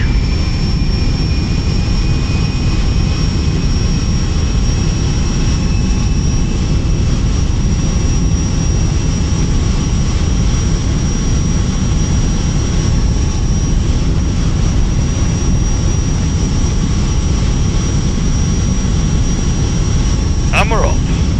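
A simulated airliner climbs out after takeoff from Manchester Airport in Microsoft Flight Simulator X, with a loud, steady jet engine roar and a high whine that hold for the whole stretch. A person talks over the engines.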